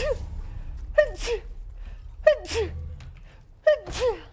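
A female streamer sneezing in quick succession, three sharp bursts about a second and a half apart, each followed by a short breath, close and fairly loud over a low background hum.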